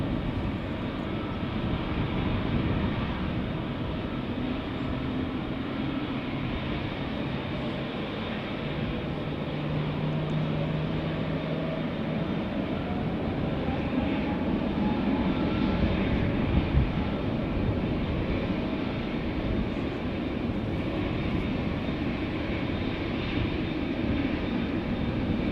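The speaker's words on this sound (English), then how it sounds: "Two airplanes coming. JetBlue flight 632 to Boston, Massachusetts. A321neo. In its wake, a 787-10 going to Toronto." A JetBlue Airbus A321neo followed by a Boeing 787-10 departing Amsterdam Schiphol, giving a sustained, moderately distant engine roar that swells gently and holds as a steady wash with no talk.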